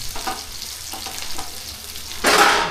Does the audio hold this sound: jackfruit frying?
yes